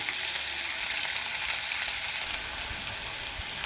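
Potato pieces frying in hot oil in a pan, a constant bright sizzle with occasional stirring, steady and close with no talk.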